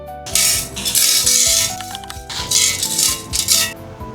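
Crushed, porous lava rock is poured into a terrarium for a drainage layer. It makes a loud, continuous gravelly rattle and clink in several bursts, with small pieces tumbling and ticking against one another.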